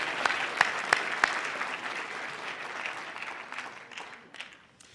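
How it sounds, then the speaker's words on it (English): A graduation audience in Los Angeles bursts into steady applause, a dense wash of clapping with a few sharp nearby claps early on, holding fairly even before thinning out toward the end. "Let's give them a round of applause."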